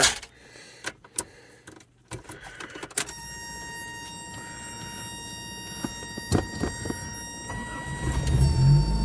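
A few clicks and clunks, then the engine of a 1983-88 Toyota Tercel wagon with a newly changed starter turns over and settles into a steady running hum that swells louder near the end.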